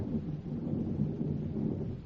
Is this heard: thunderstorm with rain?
yes